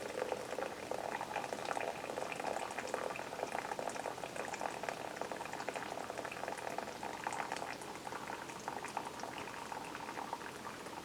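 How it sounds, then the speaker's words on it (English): Steady rushing, splashing water pours out continuously as it is drained from a pot of cooked noodles, with no one talking. "I'm going to drain off as much of that water as I can"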